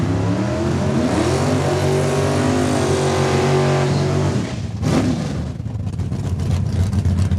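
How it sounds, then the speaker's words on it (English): Drag racing cars roar down the strip at Saskatchewan International Raceway, a loud, sustained engine howl that fades after a few seconds. A second car's rising engine noise follows, close and powerful, with no talk over it. "Camaro got through at a 10:56, 10:25 for our friends out of Regina for Martin Marchuk."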